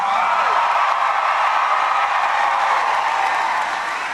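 A large crowd at a Bernie Sanders political rally in Charleston, South Carolina cheers and applauds steadily, a dense, continuous roar of clapping and shouting with no pauses.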